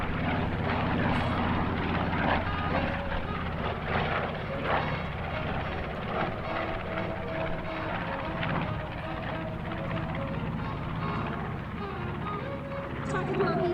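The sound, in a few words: B-25 bomber Panchito flying past at an air show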